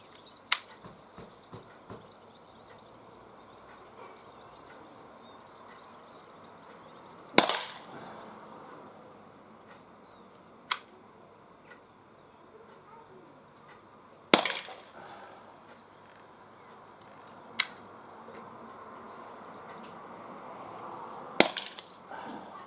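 HDR 50 revolver shots fired at targets on an outdoor range, six sharp cracks spaced several seconds apart, each a short loud report over a quiet background.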